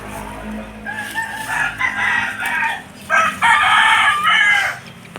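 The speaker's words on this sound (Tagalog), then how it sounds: "sige man siya tagaok" A pet rooster crows twice in close succession at moderate distance outdoors, each long crow rising and holding before trailing off.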